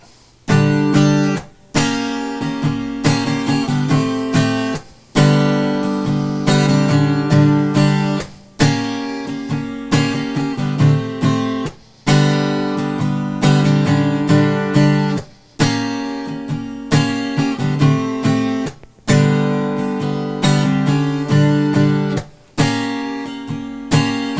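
Strummed guitar chords ring out in the repeating opening riff, loud and close, with short pauses between phrases and no voices.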